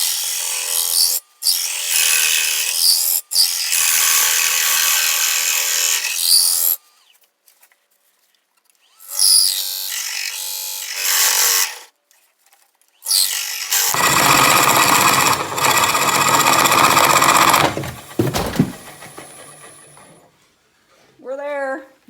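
Woodturning lathe coring a flame box elder blank, with long bursts of loud rough cutting noise broken by quiet pauses while the cutter is pulled back, and a shorter, heavier stretch of cutting toward the end.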